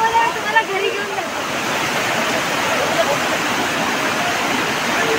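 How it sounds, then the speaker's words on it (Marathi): Tamhini Ghat waterfall rushes as a loud, dense, steady roar that fills the whole stretch, close by, with a brief voice at the start. "खूप मस्त वॉटरफॉल आहे"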